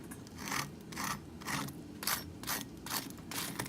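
Crispy smoky paprika buffalo chicken wings crunch in a steady rhythm of about two short, close bursts each second, repeated over several seconds with no voices.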